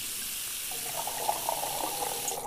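Water pouring steadily into a pot in the video game Cooking Simulator, a continuous close faucet-like stream with small splashy bubbling running for a couple of seconds.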